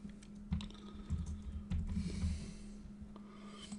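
Quiet keystrokes on a computer keyboard come in short bursts of clicks with brief pauses between them, alongside a steady low hum in the room.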